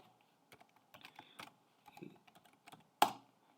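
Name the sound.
typing on a computer keyboard to log in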